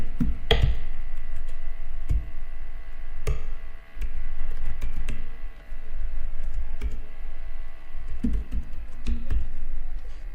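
An email address being typed on a computer keyboard, bursts of crisp key clicks with a few louder taps and short pauses, close and alone.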